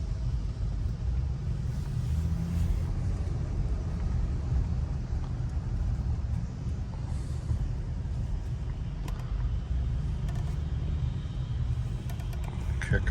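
A 2006 Honda Ridgeline RTS pickup being driven on a short loop, a steady low engine and road rumble heard from inside the cabin, continuous and unchanging throughout.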